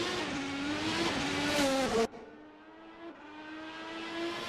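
In a Formula racing video game, a race car leaves the pit exit at the Emilia Romagna Grand Prix with a loud, high engine whine. The whine cuts abruptly to a fainter, steadier tone partway through.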